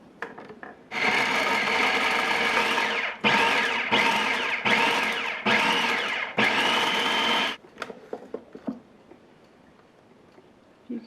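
A food processor finely chopping ham for ham salad runs in five loud whirring pulses of about a second each, separated by short pauses, then quiet clicks and rattles follow.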